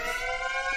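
A steady wailing siren from the video game Dialtown holds a continuous tone, loud and unbroken throughout the brief moment.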